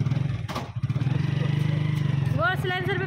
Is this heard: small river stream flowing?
no